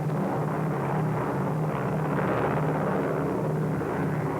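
A low, steady drone of an S-2 Tracker submarine-hunting patrol aircraft flying overhead holds constant for a few seconds, with a broad rumbling engine roar and no other sounds.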